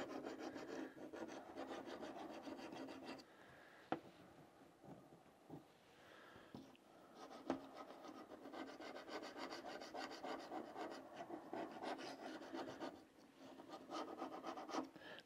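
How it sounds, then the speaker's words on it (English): Gasket scraper rasping across a metal mating surface on a 1988 15hp Johnson outboard motor, repeated gritty scraping strokes at close range with short pauses and occasional knocks. "I just got my little gasket scraper."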